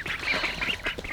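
Ducks quacking in a duck pen, a busy overlapping chorus of nasal calls repeating steadily through the brief moment, fairly close and clear with no talk.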